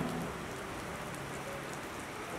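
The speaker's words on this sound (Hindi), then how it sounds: "बारिश भीग रही है" Rain pours down in an outdoor street setting in Andheri, a dense, even hiss of drops on surfaces that stays loud and close throughout, with no speech over it.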